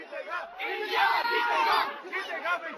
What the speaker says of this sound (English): you can already hear them chanting, Himanshu.